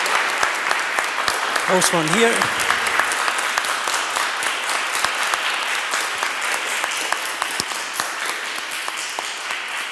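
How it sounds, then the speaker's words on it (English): Audience applause for a panel of speakers at a public talk on preserving archaeological heritage, steady clapping for the full stretch, with a brief spoken phrase rising over it early on. "Give them a big round of applause"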